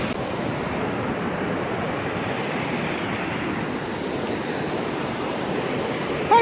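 Ocean waves wash onto a sandy beach, a continuous broad rushing surge with some wind noise and no talking, ending with a brief bump near the microphone.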